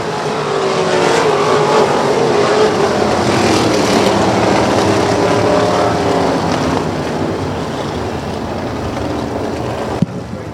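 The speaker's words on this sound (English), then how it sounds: "25 laps for the Delaware Auto Exchange Mid-Atlantic Sprint Cars. Green flag, we're underway." Sprint cars racing on a big speedway track in a Mid-Atlantic Sprint Cars event, a loud continuous roar of engines sweeping past as the pack gets underway, holding steady then easing slightly toward the end.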